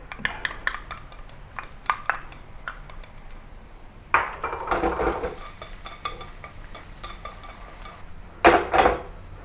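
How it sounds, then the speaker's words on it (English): Garlic sautés in oil heated to medium in a pan for Malaysian-style tamarind prawns, with a soft sizzle under frequent utensil scrapes and clinks against the pan, and a few louder stirring bursts. "Heat some oil to medium heat and saute the garlic."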